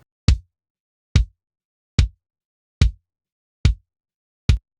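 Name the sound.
kick drum beater recorded with AKG D12 microphone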